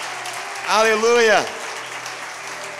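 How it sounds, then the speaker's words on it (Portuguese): A church congregation gives a short burst of loud clapping while a voice calls out over it, and the clapping fades to a low murmur within about a second. "Você pode aplaudir bem forte o nome do Senhor?"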